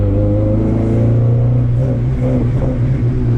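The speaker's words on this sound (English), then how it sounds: "So when I press the gas, it's like the response is instant." A Honda Civic EG engine, just fitted with a new clutch and flywheel, revs steadily with a loud, close, continuous drone that climbs slightly in pitch, no voices over it.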